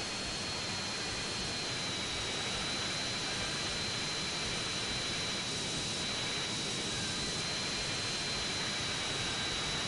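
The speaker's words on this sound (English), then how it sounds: "Fly the plane back to the airport." A plane's engine roars steadily in GTA San Andreas, a loud, continuous jet-like drone with a thin high whine running through it and no pauses, heard alone.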